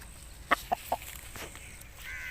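A large Aseel rooster clucking: three short, sharp clucks in quick succession, moderately close, followed by quieter rustling and faint background noise.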